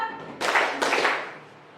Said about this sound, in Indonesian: kita menepuk dua kali